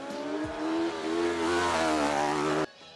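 A Caterham 275R, a light 135-horsepower sports car weighing about 500 kg, roars loudly as its engine revs up in a steady, climbing drone, then cuts off abruptly near the end.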